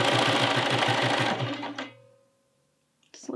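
A sewing machine stitches fabric in a fast, rhythmic run that slows and stops partway through, leaving a brief near-silence before a short clack of handling at the end.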